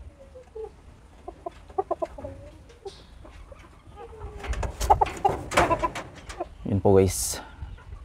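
A rooster, a crossbreed of labuyo junglefowl and local fowl kept in a backyard coop in Vanuatu, gives a few clucks and a short crowing call, with someone talking over and between the sounds.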